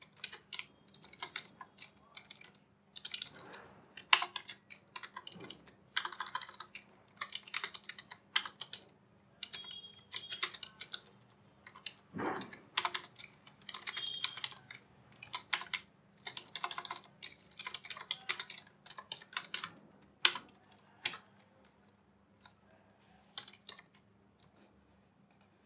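Close, quiet typing of C++ code on a computer keyboard during a programming lesson, bursts of rapid key clicks separated by short pauses, with a faint steady hum underneath.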